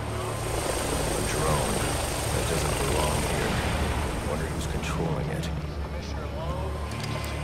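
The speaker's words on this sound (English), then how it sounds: "That's why there's a drone." A surveillance drone in the Batman: Arkham Origins video game hovers with a steady whirring rotor drone that stays constant and fairly loud throughout, with faint voices beneath.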